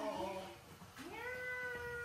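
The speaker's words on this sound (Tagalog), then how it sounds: "Pusa" A cat at a zoo gives a drawn-out, close but fairly quiet meow with a rising and sustained tone.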